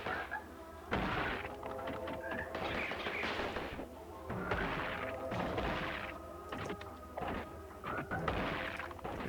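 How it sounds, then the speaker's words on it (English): Missiles fire from a cat's mech suit in the pixel-art game Gato Roboto as a series of repeated blasts and bursts, with a voice heard between them. "We can shoot missiles down."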